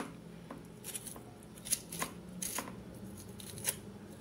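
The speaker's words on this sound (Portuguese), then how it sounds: "com uma facinha, tira a casca" Small knife scraping and peeling the skin off cassava root in a home kitchen: a series of short, soft scratchy strokes and light snips, close and fairly quiet, with no talking.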